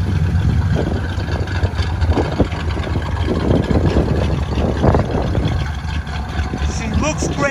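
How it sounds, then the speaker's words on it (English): A 1966 Chevrolet Impala Super Sport with a 327 V8 idles with a steady, low, rumbling beat, while someone talks over it throughout. "Listen to that motor run."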